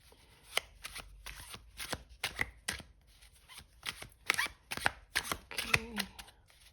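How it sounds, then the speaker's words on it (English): Tarot cards are shuffled by hand in a loose, messy way, a close series of soft riffling slaps and flutters in irregular bursts, with a brief murmur of voice near the end. "I am a very messy shuffler, so this is why I usually pre-shuffle the cards"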